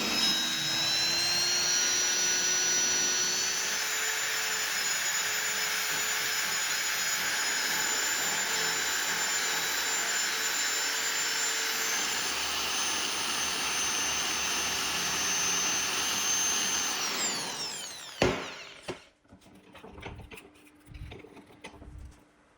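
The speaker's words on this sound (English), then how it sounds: "using a drill press as a makeshift rotary tool holder gives you better control for this kind of precise shaping, especially in those tight corners" A rotary tool held in a drill press shapes a cast brass karambit, giving a steady high-pitched whine with a grinding hiss for about eighteen seconds before it winds down and a few clunks follow.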